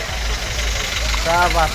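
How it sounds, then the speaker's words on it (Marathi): Heavy traffic crowding a road on the way to Chikhaldara, with idling and running vehicle engines forming a continuous close rumble, a tonal horn-like sound rising near the end and voices faintly present. "तर खूप गर्दी आहे ती खूप गाड्या येत आहे ती"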